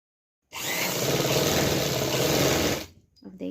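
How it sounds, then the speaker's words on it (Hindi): An electric sewing machine stitches a fitting seam on a suit, running in one steady, rapid whirring burst of about two and a half seconds before stopping, close and loud, followed by a brief faint sound. "यहाँ पे हम सिलाई लगानी स्टार्ट कर देंगे फिटिंग की"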